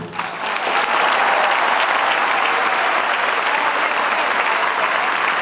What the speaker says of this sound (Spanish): Ojalá que él pudiera escuchar este aplauso.